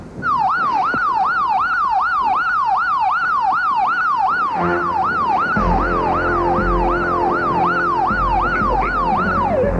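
Loud, close emergency siren wailing in a fast repeating up-and-down yelp throughout, with a vehicle engine rumble joining beneath it partway through and no talk.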